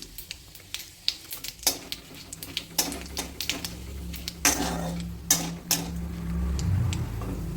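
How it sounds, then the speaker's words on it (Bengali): Whole cumin seeds drop into hot oil already holding bay leaves, cardamom and cinnamon for a dalia khichuri, giving a run of close, sharp ticks and crackles over a low, steady sizzle. "অল্প একটু আস্ত জিরে দিলাম"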